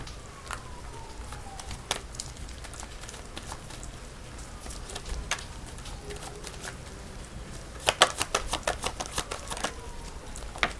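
Tarot cards being shuffled and drawn for a reading: soft papery riffles and flicks spread through the clip, with a denser burst of crisp card snaps near the end, close and fairly quiet, with no talking.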